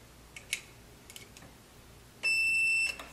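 A continuity tester on a 3-way switch gives a steady electronic beep lasting under a second, preceded by a few faint clicks of the leads touching the terminals, in an otherwise quiet room.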